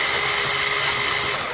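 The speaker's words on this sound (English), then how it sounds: "So just put the drill in and move it in a circular motion just to make the hole a little bigger" Power drill spinning steadily as it enlarges a hole in the plastic casing of a Vaio laptop near the power jack, a continuous close whine with no pauses or voices.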